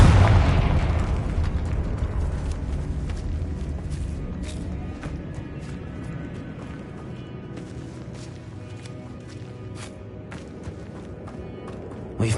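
A Confringo explosion spell in the Hogwarts Legacy video game bursts with a loud, close boom, then a long rumbling tail that fades over several seconds, with faint crackles through the decay.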